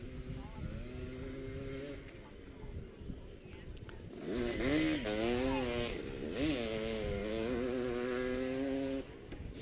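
Two-stroke ATV engines rev hard at a fair ATV rodeo, a buzzing snarl that rises and falls in repeated high-RPM bursts, with a crowd and announcer talking throughout.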